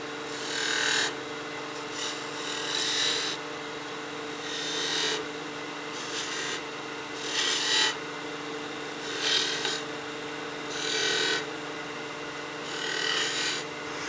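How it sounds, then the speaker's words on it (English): A skew chisel cuts small V grooves into a wooden spindle turning on a lathe, giving repeated rasping, scraping bursts over a steady machine hum, close and fairly loud. "I'll use my skew just to create some little V grooves in here"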